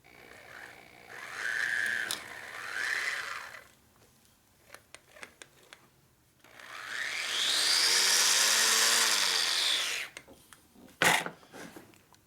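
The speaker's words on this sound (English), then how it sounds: "I just let the drill kind of get itself into the hole." A drill motor whines during a shovelhead Harley-Davidson engine rebuild, with a short rising-and-falling burst followed by a longer spin-up that holds and then winds down, and brief taps and clicks in between.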